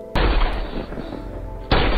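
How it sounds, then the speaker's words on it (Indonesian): A single loud gunshot fired into the air in an Indian action film, a sharp blast with a rumbling tail, followed by another heavy report near the end. "memberitahu posisi mereka saat ini dengan melepaskan sebuah tembakan ke udara"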